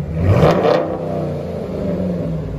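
Close up, a 2012 Jeep Grand Cherokee 5.7L HEMI V8 with a Carven TR-Series true dual exhaust blips in a sharp rev that peaks early and then settles back to a low, steady idle rumble.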